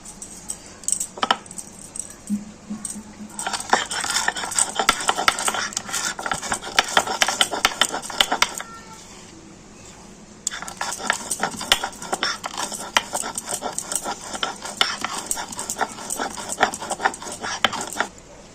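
Roasted fenugreek seeds are ground on a stone grinding slab, with a steady run of rapid gritty scraping and crunching taps that pauses briefly midway and then carries on.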